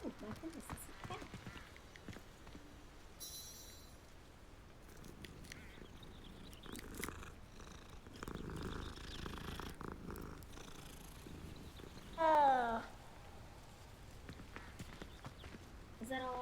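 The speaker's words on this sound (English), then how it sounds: "Oh my goodness, it's a cat." A cat in the video game Hogwarts Legacy purrs softly beneath game ambience, footsteps and a player talking, with a brief brighter chirp or meow standing out near the end.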